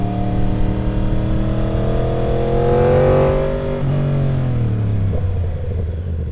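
A Lamborghini on a race track accelerates hard with a loud, close engine note, rising steadily in pitch through the gears and dropping at each upshift.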